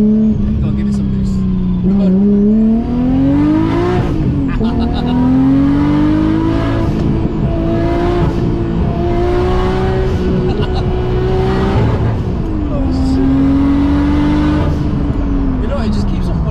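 An 800 hp turbocharged Nissan Skyline R33 GT-R engine revs hard and climbs through the gears, loud and close, with a voice talking over the roar.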